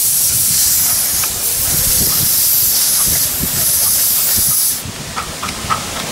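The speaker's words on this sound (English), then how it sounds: "There goes the Flying Scotsman miniature loco." Flying Scotsman 4472 miniature steam locomotive at a miniature railway, giving a loud, continuous steam hiss with faint rhythmic chuffs, close by, then dropping off near the end to quieter clanks.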